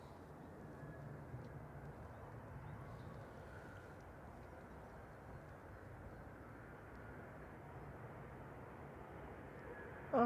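An airliner lands on the runway at Manchester Airport, a steady, broad engine roar carrying through the whole stretch at moderate distance with no distinct touchdown thump standing out.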